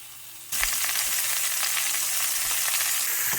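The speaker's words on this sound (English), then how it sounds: "I'm going to sear it a little bit before we get it in the oven." Corned beef drops into hot olive oil in a pan and immediately sets off a loud, steady sizzle that continues without a break, close up and alone.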